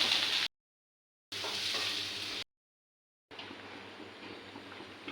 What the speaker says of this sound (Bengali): এদিকে ফুলকপিটা ভাজা হচ্ছে।